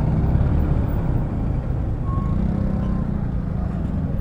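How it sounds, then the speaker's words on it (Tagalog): A garbage truck on a busy road in San Isidro, Rodriguez, Rizal, rumbles loudly at close range while a couple of faint, short reversing beeps sound over the engine and traffic. "Truck ng basura nani."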